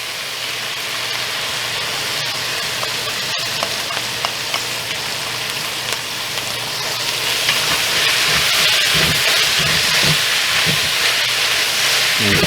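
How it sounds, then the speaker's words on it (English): Thawing frozen vegetables for a shepherd's pie hit a hot pan and sizzle steadily with a steamy hiss, and the sound grows louder and fuller partway through, with occasional stirring scrapes and no speech. "And now we're going to go ahead and add our frozen vegetables."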